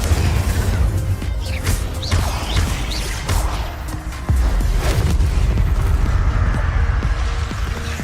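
Fire spell cast in Hogwarts Legacy amid dense game combat, with loud booming impacts and crashing bursts layered over a constant low rumble and whooshing effects.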